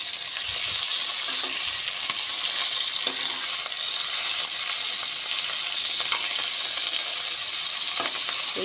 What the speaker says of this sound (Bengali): মাছ ভাজা একটু মচমচে করে হলে তবে ভালো লাগে